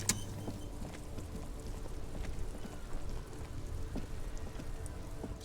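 Steady rain falls in the detective video game Disco Elysium, a continuous even patter of drops on surfaces with a faint low rumble beneath, heard alone without voices.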